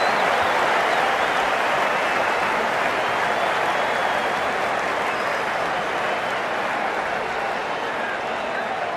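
Stadium crowd in a cricket video game, a Pakistan vs South Africa one-day international, applauding and cheering in a steady dense roar that fills the whole stretch, with no break in the noise.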